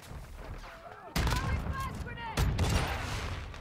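Two loud, sharp blasts from a Bryson 890 shotgun in Modern Warfare II, each booming shot followed by a short decaying tail, with quieter game ambience and movement before the first.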